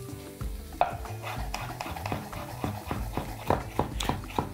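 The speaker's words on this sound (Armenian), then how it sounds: "Կարտոֆիլը այնպես ենք խառնում տապակելիս, որ հյուսի չվերածվի" A utensil knocks and scrapes against a pan in irregular bursts as potatoes are stirred while frying, with a soft sizzle underneath, close and fairly quiet.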